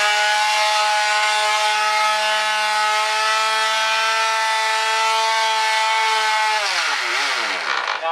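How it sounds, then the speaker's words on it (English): A powered sander with 80 grit paper works an electric guitar body, holding a steady, loud mechanical whine for several seconds before the pitch sags and winds down near the end. "when you're using sanders like palm sand or whatever, don't put a lot of pressure. Let the sander do the work."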